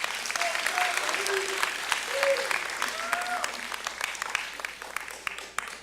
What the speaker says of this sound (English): Let's give Mr. Reed another round of applause.